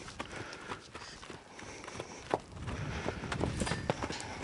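A horse walks on at a handler's cue, its hooves thudding in an uneven clip-clop rhythm under faint background noise, moderately close.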